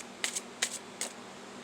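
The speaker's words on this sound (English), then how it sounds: "This is also a new deck. So the cards shuffle pretty good" A new, very oversized deck of cards is shuffled during a tarot reading. Three quick, crisp riffling bursts come at even intervals, close and fairly quiet, with no talk over them.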